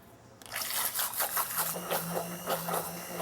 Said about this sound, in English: this is just another great use of your immersion blender